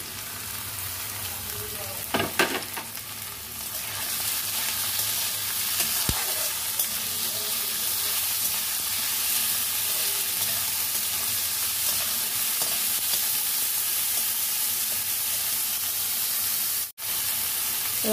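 Tomato and green chilli hitting hot oil in a pan for a chicken dish, a loud sustained sizzle with stirring clatter near the start and a brief dip in the hiss toward the end.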